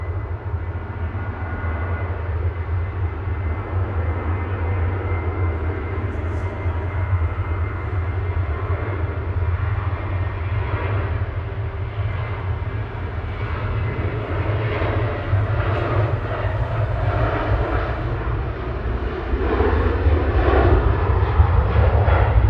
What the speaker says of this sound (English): flight 2898. Aureli from Guernsey about to touch down in the background, ATR 72600 Gloria.